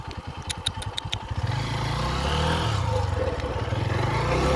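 Motorcycle riding on a wet, muddy dirt track on a coastal bike tour, the engine thumping at idle then revving into a steady, loud drone close to the rider.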